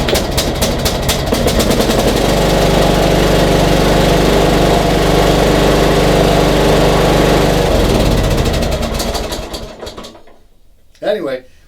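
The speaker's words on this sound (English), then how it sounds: "And so we know it'll start a lawnmower." A lawn mower engine jump-started with a Wolfbox 3000A jump starter catches and runs at a loud, steady roar for about eight seconds, then cuts out and winds down, leaving a brief knock and quiet.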